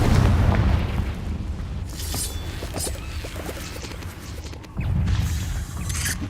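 The Confringo fire spell in Hogwarts Legacy goes off as heavy booming explosions, loud at the start and again near the end, with crackling bursts and debris noise in between.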